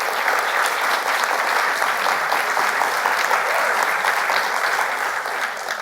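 A large audience at an awards ceremony applauds steadily. The dense clapping stays sustained and even throughout, then tapers slightly at the end.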